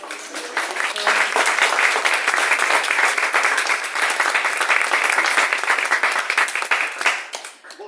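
Steady audience applause at a presentation of the short-story book "Cuentos del espejo", a dense wash of many hands clapping close and continuous for several seconds, fading briefly at the end.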